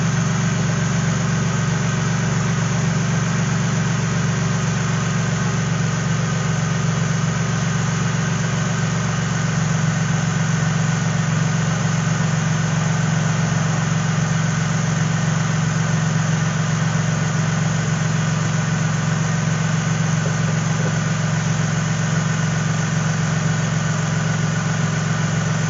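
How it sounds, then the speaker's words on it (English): Toyota truck engine idling steadily with its air conditioning compressor running: a continuous, even hum with a strong low drone and no talk. "I'll be able to hear the compressor kick in, maybe you will too"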